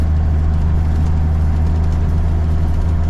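An International Eagle truck with a freshly rebuilt Cummins 444 engine runs with a steady, loud low rumble, a continuous heavy diesel drone with no distinct rev peaks.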